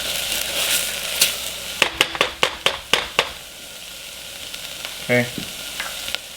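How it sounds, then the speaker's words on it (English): Onions, peppers and garlic sizzle steadily in a pan, with a run of sharp clicks and taps from a utensil against the pan partway through. A voice briefly speaks. "You should be smelling enough onions and peppers and garlic cooking"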